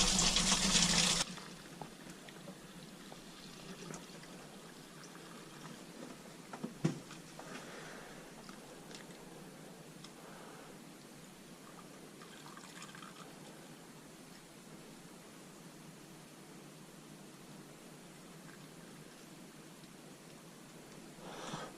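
Homebrewed beer wort, a DIY Dog #279 Slot Machine recipe, pours through a strainer into a sanitized fermenter with a steady, close splashing and trickling wash that runs on throughout, opening with a louder burst.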